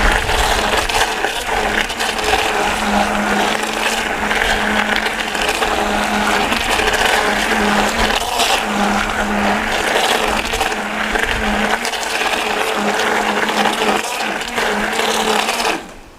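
Shea butter anti-wrinkle cream is being blended with white now oil, giving a steady mechanical whir that runs unbroken for about sixteen seconds at close range and cuts off abruptly at the end.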